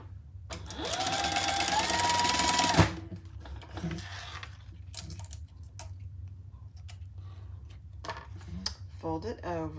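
A domestic sewing machine runs a steady stitching burst for under three seconds, sewing a quarter-inch seam on a Gemella wallet, followed by quiet handling clicks and faint rustling.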